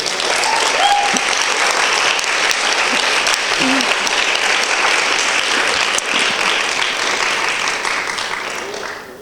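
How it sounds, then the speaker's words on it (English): Steady, loud applause from a festival audience after a talk, sustained dense clapping throughout that thins slightly near the end, with faint voices mixed in. "One more round of applause for that, because that was a lovely talk."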